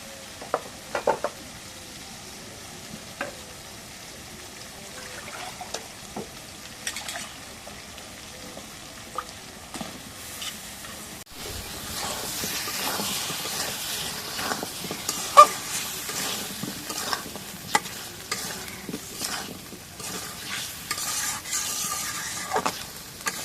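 Goat meat and potatoes sautéing in a pan, a steady sizzle with scattered scraping and stirring clicks throughout, louder in the second half, with no voices.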